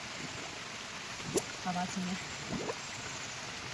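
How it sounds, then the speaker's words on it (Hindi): Groundwater gushes out from beneath a road on the Bijli Mahadev track, a steady rushing hiss that runs through the whole clip while a voice and brief murmurs come and go over it. "धरती के नीचे से देखो कैसे पानी निकल रहा है"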